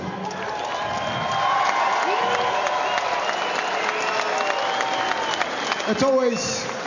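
A large home crowd at Mystery Creek, New Zealand, applauds and cheers for boxer Shane Cameron after a bout, a dense sustained roar that swells near the end.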